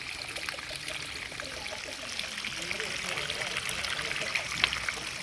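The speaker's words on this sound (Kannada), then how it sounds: "ನೋಡಿ, ನೀರು ಹೇಗೆ ಬೆಟ್ಟದ ಕಲ್ಲಲ್ಲಿ ಹೇಗೆ ಹೋಗ್ತಿದೆ." A small stream trickles and gurgles over rocks on a hillside in a village, a soft, steady flow close at hand with someone talking over it.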